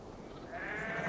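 A single drawn-out sheep bleat in Assassin's Creed Valhalla, fairly faint, rising slightly in the second half against a steady background.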